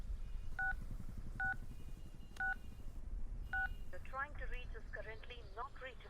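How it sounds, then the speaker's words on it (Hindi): Four short two-tone keypad beeps, evenly spaced, followed by a dial or ringback chirping pattern, with low background rumble throughout. "अनिल को फोन कर"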